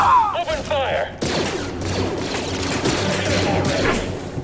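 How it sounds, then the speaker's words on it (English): Enemy blaster fire in the video game Star Wars Jedi: Fallen Order, a dense rapid volley of zapping shots that runs throughout, with a player talking over the opening moments. "Oh my god, stop shooting me!"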